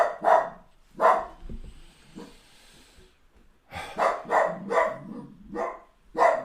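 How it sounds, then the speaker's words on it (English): A dog barks in repeated bursts, close and loud, with a quiet gap in the middle before a run of several more barks. "Going to have a little bit of barking."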